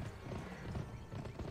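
Horse galloping in the PS2 video game Gun, rapid clip-clop hoofbeats in a quick rolling rhythm with game sound mixed underneath, fairly faint and continuous.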